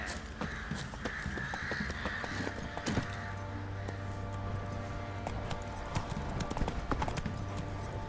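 Hooves of Roach, Geralt's horse in The Witcher 3, clip-clop in a steady, continuous rhythm, close and moderately loud, with no one talking over them.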